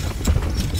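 A quick pair of hoof clops from a trotting horse in the video game Stronghold Crusader HD, muffled and brief, over a low steady background hum.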